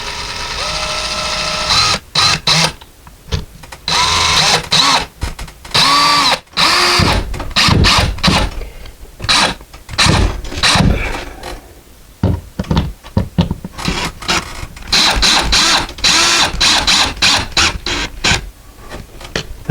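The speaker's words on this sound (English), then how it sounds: "if you are using the electric screwdriver, do not over tighten it and strip it out" An electric screwdriver drives a screw into a curtain rod bracket, producing close, loud whirring bursts that start and stop repeatedly, with knocks and short pauses between runs and no talking.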